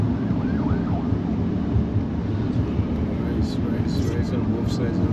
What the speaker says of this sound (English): Ambulance coming, Ray and this guy, opposite direction. Two ambulance.